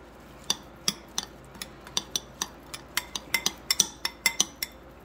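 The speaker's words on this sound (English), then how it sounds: "get some salt, some black pepper, mix this bad boy up" Pico de gallo being stirred with salt and black pepper, a spoon clinking and scraping against a bowl in a quick irregular series of bright taps, close and clear with no talk.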